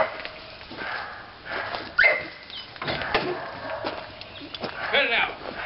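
A dog barks a few times at moderate distance while people talk over it and other scattered noises sound around them.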